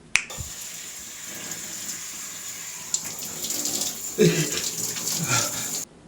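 Cold shower water runs in a steady hiss, opening with a sharp click and rising louder toward the end, with faint voice sounds in the background.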